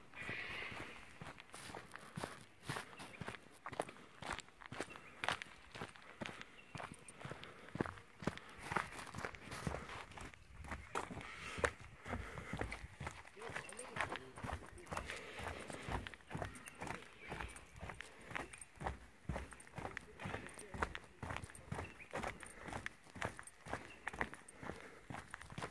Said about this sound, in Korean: 여기 수풀 속을 한번 거닐어 보겠습니다.